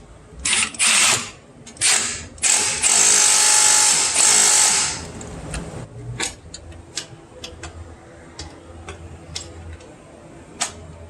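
A power tool tightens down a Jeep alternator in several short, loud bursts, followed by fainter clicks and ratcheting taps.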